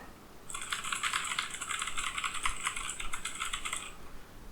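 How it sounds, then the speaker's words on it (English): Keys clatter in a quick, steady run of typing on a computer keyboard, close by and moderately loud, lasting a few seconds over faint background hiss with no voices. "me typing on the keyboard."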